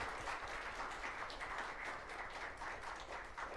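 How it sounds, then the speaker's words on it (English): A congregation applauds at the close of a Christmas Mass, a steady, dense wash of many hands clapping throughout, filling the church at a moderate level without pause. "let us give ourselves a big round of applause for this wonderful celebration"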